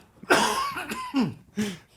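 A person coughs several times in quick succession, harsh and close, with short gaps between the bursts.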